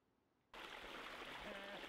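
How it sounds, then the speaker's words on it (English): A creek in Fern Canyon, in Prairie Creek Redwoods, flows with a steady, full rush of water that switches on abruptly after a brief quiet start and continues evenly to the end. "The melodious sounds of the creek echo throughout the canyon"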